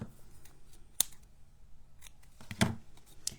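Scissors trimming designer paper for a greeting card, two distinct crisp snips close up against a quiet background, with faint paper handling between them.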